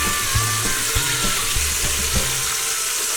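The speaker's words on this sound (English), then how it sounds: "I'll let those finish browning on that side." Country style ribs sizzle and fry as they brown in an Instant Pot, a constant close crackle broken by a few low knocks and clunks of the meat being moved in the pot.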